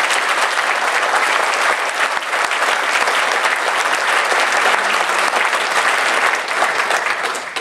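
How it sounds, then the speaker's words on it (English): A convention hall crowd at a storm chaser gathering applauds the event organizers and sound and light crew, producing loud, dense, unbroken clapping that stays level from start to finish. "Maybe we give a round of applause for them."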